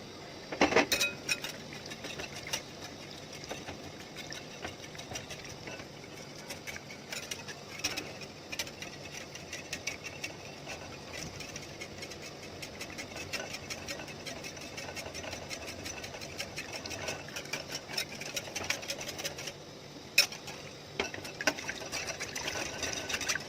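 An electric mixer beating banana cake batter made with milk and oil gives a faint, steady motor whirr with a fine rattling texture that runs unbroken throughout.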